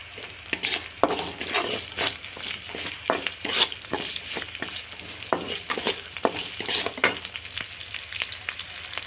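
Lentils frying in a pan with curry leaves, a close, continuous sizzle broken by frequent scraping and stirring clatters of a utensil against the pan, with no voices.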